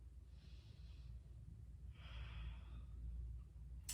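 Slow breathing during a quiet yoga relaxation before Sun Salutation A, two soft airy breaths, the second fuller and longer, close and gentle over a low room hum.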